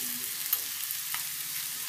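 Chilli powder and coriander powder hitting hot oil in a pan for a coriander tempering, a soft, steady sizzle and frying hiss with a couple of faint stirring clicks, quiet and close, no voices.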